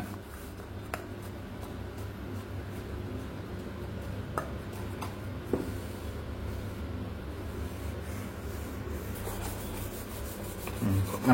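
Mysore pak is spread and flattened in a greased flat plate, heard as faint continuous rubbing and scraping with a few light taps over a low background hum.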